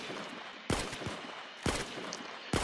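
Three loud, sharp bolt-action rifle shots from a marksman in Tower Battles, spaced roughly a second apart, each with a sudden crack and a short decaying tail over a steady hissing background.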